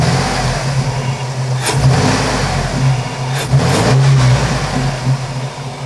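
Jeep Liberty engine with a throttle body spacer fitted, heard idling and then revving in two blips of throttle, loud and close with no talk.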